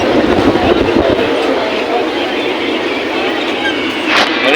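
A metro train rumbles along with a loud steady roar and faint rattle, heard from inside the carriage without pause.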